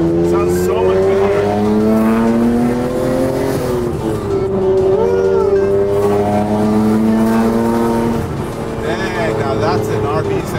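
Nissan Skyline R34 GT-R with a straight-pipe exhaust idling and revving: a loud, raw engine drone rising and falling in pitch, heard up close with people talking over it.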